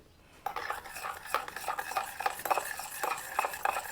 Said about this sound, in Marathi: असं हलवून घ्यायचं चमच्यानेच व्यवस्थित त्याला मिक्स करायचं